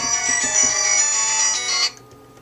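A mobile phone ringtone plays a bright, steady melodic tone for about two seconds, then cuts off abruptly, ringing loud and close during an online webinar.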